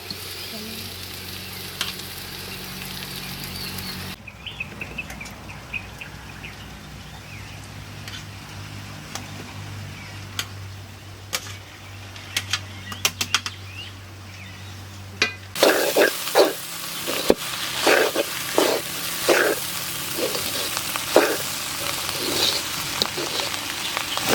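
Pieces of jackfruit fry and are stirred in a pan during village cooking outdoors, with a crackling sizzle and scraping that grow louder toward the end while birds coo in the background.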